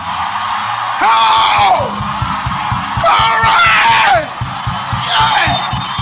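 An audience at a motivational talk shouts hallelujah in three loud bursts of whooping and yelling, each a second or so long, rising over a steady low rhythmic thump of background music.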